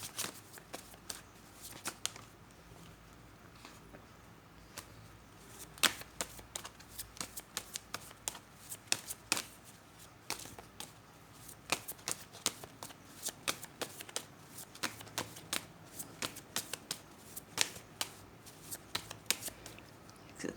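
Tarot cards are shuffled by hand in a quiet room, giving a long run of crisp riffling snaps and soft slaps at an uneven rhythm, close and fairly faint.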